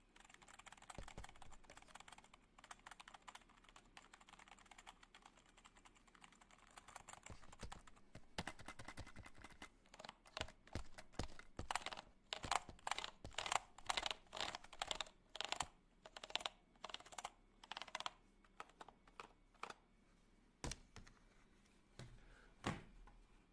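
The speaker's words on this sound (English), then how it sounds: "a little bit of keyboard ASMR so we can relax" Steady typing on a computer keyboard, soft at first and then a dense run of clicky keystrokes, quiet and close, with no voices.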